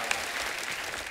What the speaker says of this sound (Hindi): बहू रानी आई। जोरदार तालियां।